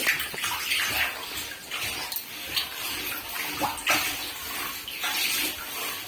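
Water splashes and sloshes inside a water tank being cleaned, with irregular close bursts of spray and gushing over a continuous wash of running water, with no talking.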